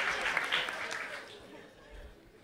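A stand-up comedy audience applauds, a crowd of hands clapping loudly at first and then thinning and fading away, with a voice talking over it.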